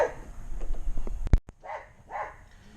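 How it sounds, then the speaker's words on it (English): A pet dog barks indoors, a few short sharp barks near the middle followed by softer whimpering yips, heard nearby in a garage-style space. "My apologies about the dog."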